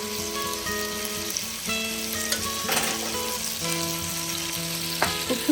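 Kamranga chillies and peas fry together in a pan, making a dense, steady crackling sizzle with occasional sharper spatters, and a faint tonal hum sits underneath.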